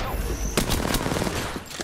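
Gunfire in the Apex Legends video game, several dense bursts of rapid shots starting after a quiet half second and continuing loudly through the rest.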